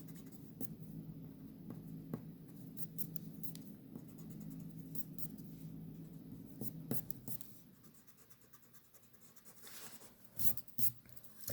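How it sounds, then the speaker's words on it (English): A pencil eraser rubs out lines on paper while a stop sign is drawn in perspective: steady close scrubbing for about seven seconds, then a quieter stretch with a few light taps and brushes. "Now I erase out the lines that I do not need."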